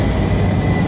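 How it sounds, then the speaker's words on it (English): A metro train rumbles steadily through a subway station, a dense, continuous low roar with faint high hiss, loud and close with no pauses or voices. "Waiting for my train to come,"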